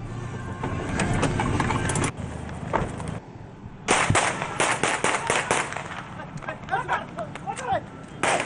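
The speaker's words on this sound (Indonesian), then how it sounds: "sejumlah personil menghujani mereka dengan tembakan sambil mengejar dengan kecepatan tinggi" Sharp bursts of police gunfire crackle in rapid volleys, broken by a brief lull, over engine noise and raised voices during a high-speed car chase.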